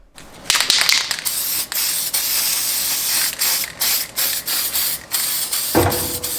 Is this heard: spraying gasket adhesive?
yes